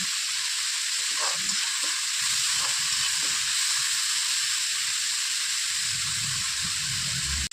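Crab gravy masala with fenugreek sautés in a pan, a steady bright sizzle and hiss running the whole time, with occasional soft stirring knocks and scrapes underneath.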